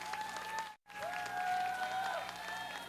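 Audience at a televised contestant event applauding continuously, with dense clapping and a few cheers, steady apart from a brief dropout near the start.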